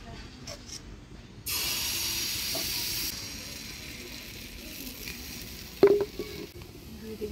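Pithe batter sizzles in hot oil while Bengali patishapta pithe is cooked at home, a soft steady frying hiss with a louder burst partway through and a brief clatter near the end, with no talking.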